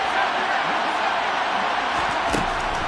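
A steady, loud roar from a stadium crowd in an American football video game, an unbroken wash of noise.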